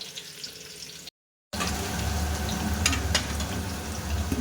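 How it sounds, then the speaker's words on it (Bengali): Potatoes frying in a pan give a steady, fairly loud sizzle that breaks off briefly into silence and then resumes, with no one speaking. "আলু ভাজা হয়ে গেছে মোটামুটি এবার এটাকে নামিয়ে ফেলবো"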